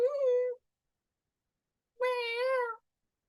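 A cat gives two clear, close meows, a short one followed by a longer drawn-out one after a pause of silence.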